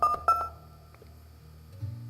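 In-game phone dialing tones sound as a couple of quick electronic beeps at the start, followed by a quiet stretch and a low, steady tone near the end, clean and close.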